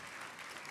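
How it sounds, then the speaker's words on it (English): Audience applause after a call for the room to clap, a short steady burst of dense clapping at moderate level with no talk over it. "give yourselves a round of applause for that"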